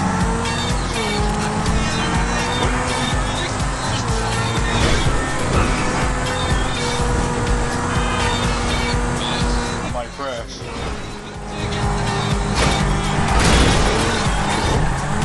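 A fast car in GTA V Online roars continuously with a loud engine, tire noise and passing traffic, while someone talks over it throughout.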